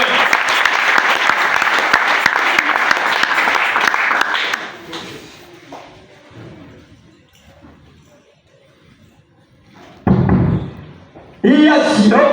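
A church congregation at a Sunday service bursts into loud, dense applause for about four seconds, then it fades to quieter room sound with scattered thuds before two short, loud bursts near the end.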